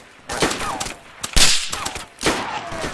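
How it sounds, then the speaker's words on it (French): Gunfire in a DayZ standalone firefight: several bursts and sharp single shots ring out at mid distance. Bits of voice are heard between the shots. "Deux mecs qui me tirent dessus."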